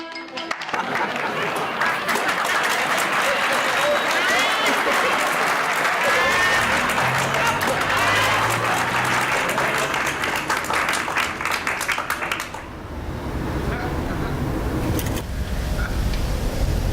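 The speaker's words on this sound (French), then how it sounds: "Applaudissez." Audience applause and crowd noise at a comedy podcast-style show, dense steady clapping filling most of the stretch, thinning slightly near the end.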